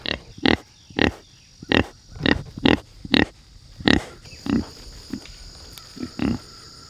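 Pigs being moved to a new spot on a farm grunt repeatedly, a string of short close oinks in an uneven rhythm with brief gaps between them, over a faint background hum.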